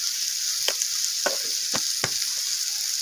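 Garlic, ginger paste and salt fry in a pan, giving a steady close hiss, while a spoon stirs and taps against the pan about four times.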